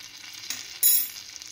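Ginger garlic paste frying in melted butter in a pan for red pumpkin soup, a soft steady sizzle with a sharper hiss burst midway, close and alone.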